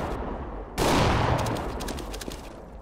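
A decoy grenade in CS:GO mimics gunfire, producing a loud burst of rapid, clattering shots that starts abruptly and keeps popping with sharp repeated cracks for a couple of seconds.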